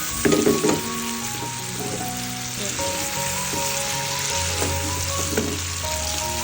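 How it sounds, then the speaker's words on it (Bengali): Vegetables frying with tomato and black pepper in a pan, a steady bright sizzle running throughout with occasional stirring scrapes and faint tonal kitchen hum underneath, no talking. "আমি এখন ভেজিটেবলটা ফ্রাই করবো এখানে অল্প পরিমাণে টমেটো দেবো"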